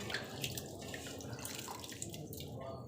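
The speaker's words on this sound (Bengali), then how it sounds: "তো পান্তা ভাতগুলো ধুয়ে নেব।" Tap water runs steadily into a bowl of soaked rice (panta bhat) being washed, with splashing and dripping close by throughout, and no talk.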